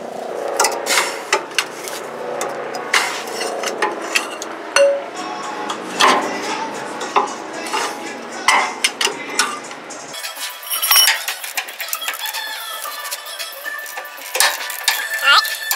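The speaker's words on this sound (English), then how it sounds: "I'm gonna break these free here, both of these bolts. Hopefully the breaker bar will fit." Two bolts are broken loose with a breaker bar and a 15/16 socket, heard as a run of sharp metallic clanks, knocks and ratcheting clinks close by, with a brief change in background partway through.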